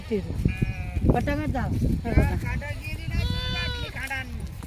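A sheep with a fractured leg bleats over and over at close range, wavering cries following one another almost without pause, with other livestock noise underneath.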